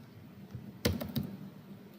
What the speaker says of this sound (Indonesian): Maka kita ketik di sini 4 juta.